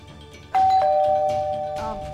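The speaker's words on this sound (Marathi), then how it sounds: "काकू, बेल वाजली," A doorbell in a Marathi TV serial scene gives a loud two-tone ding-dong chime, the second tone following quickly and both ringing out clearly with no voices over them.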